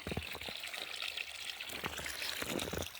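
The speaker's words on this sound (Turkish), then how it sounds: "Suyumuz akıyor maşallah." Running water flows steadily in a Zonguldak village after snowfall, a constant close rushing and trickling wash with no voices over it.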